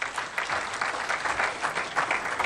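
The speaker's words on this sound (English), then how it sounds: "Please give it a round of applause." Steady applause from a conference audience at a pan-African pensions event, sustained and even for a couple of seconds with no talking over it.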